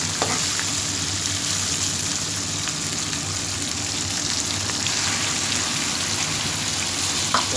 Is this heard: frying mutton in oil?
yes